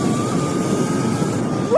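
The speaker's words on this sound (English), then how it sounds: "That's just all wheel spin." Rear wheel of an electric dirt bike, a Wild E-Ride Pro SR, spinning without traction: a steady electric whine and whir over rough wind rumble, rising in pitch at the very end, with no voices.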